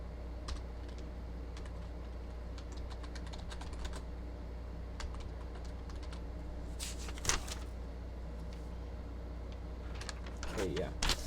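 Typing on a computer keyboard during a data-entry practice lesson: a steady stream of light, close key clicks with brief pauses and a few sharper taps, over a constant low background hum.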